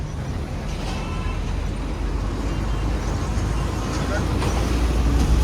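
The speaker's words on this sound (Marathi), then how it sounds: "सगळं ट्रॅफिकच आहे मागं." Dense road traffic on Ghodbunder Road rumbles continuously with low engine drone and passing vehicles, a steady, fairly loud wash of car, bus and truck noise, with a voice talking faintly over it.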